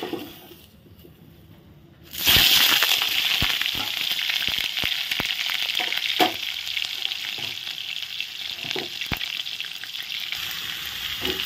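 Boiled young jackfruit hits hot oil in a pan with onion and potato: after a quiet moment a loud sizzle bursts out and keeps crackling steadily, punctuated by sharp spatters and utensil clicks.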